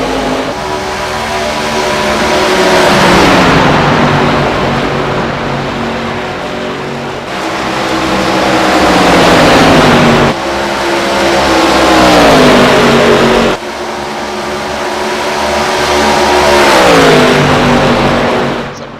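ARCA stock cars race at Texas in iRacing, their loud engine note rising and falling in long revving pulls, several cars droning together and shifting pitch steadily throughout with no voices.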